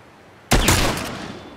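A single loud hunting rifle gunshot cracks out suddenly in The Last of Us and rings into a long, fading echo. No one talks over it.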